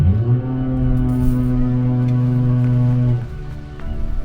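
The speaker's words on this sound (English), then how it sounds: "At the first sign of fog, smoke, or snow, the horn would bellow out over the water." Split Rock Lighthouse foghorn on Lake Superior, as it sounded in the early 1900s: one loud, deep, sustained bellow lasting about three seconds, then cutting off abruptly.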